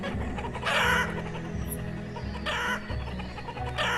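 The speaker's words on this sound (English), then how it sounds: "there's already a fair amount of chickens" Chickens in the video game Banished let out a few bursts of clucking and squawking over continuous background game ambience. The calls stand out moderately against the mix.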